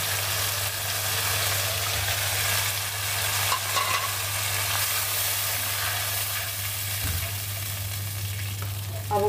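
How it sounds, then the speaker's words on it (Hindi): Tomato puree frying in a pan with turmeric for palak paneer, a steady close sizzle with occasional stirring scrapes, continuous and fairly loud throughout with no talking. "अब हम इसे 2 मिनट तक भूनने देंगे।"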